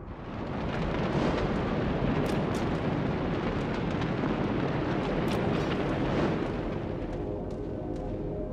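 A destroyed ship explodes in a video game as a long, loud roaring blast that holds steady and dense for several seconds before thinning slightly near the end.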